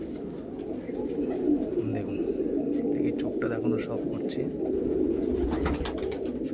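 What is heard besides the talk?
pigeons cooing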